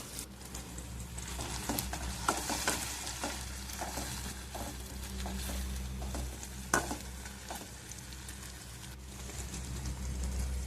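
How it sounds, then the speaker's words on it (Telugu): Chopped tomatoes fry and sizzle in a pan for tomato rice while being smashed and stirred, giving a steady close sizzle with scattered scraping taps throughout. "టమాటా మొత్తం మెత్తబడే వరకు బాగా స్మాష్ చేసుకుంటూ తిప్పుకుంటూ బాగా ఫ్రై చేసుకోవాలి"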